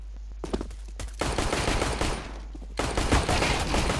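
Rapid video-game gunfire from a USP-S suppressed pistol, a dense run of sharp, loud shots that stops briefly and then resumes over a constant low hum.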